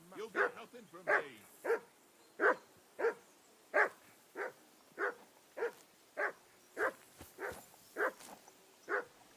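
Dog in Kingdom Come Deliverance 2 barking in a steady series of about fourteen sharp, evenly spaced yelps with faint whimpering between them, close and fairly loud, with no talk over it.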